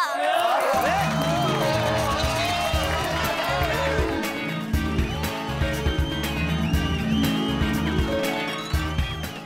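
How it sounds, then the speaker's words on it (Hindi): A stage crowd applauds and cheers to welcome a guest, a dense, loud, continuous roar of hands and voices with music running underneath throughout. "जोरदार तालियों से स्वागत करते हैं श्री आसिफ कुमार मोदी जी का"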